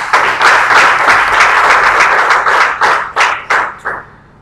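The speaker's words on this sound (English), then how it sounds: "Shall we give him a warm round of applause," Audience applause for a lecturer at a mechanical engineering public lecture on problem solving in manufacturing, loud and dense from many hands, then thinning into scattered final claps as it fades out.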